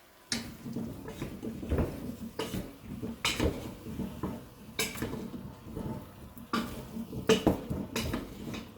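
Pumpkin soup being stirred in a pot, with a spoon scraping and clinking against the pot in uneven bursts, close and moderately loud with no talking.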